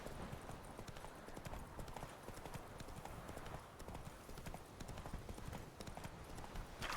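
Roach the horse walks in Witcher 3, steady clip-clop hoofbeats in an even rhythm, faint and continuous throughout.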